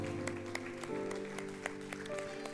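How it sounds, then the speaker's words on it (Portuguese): A church congregation claps in praise, a light scattered applause with sharp individual claps over sustained music or tones in the hall. "Vamos aplaudir o Senhor."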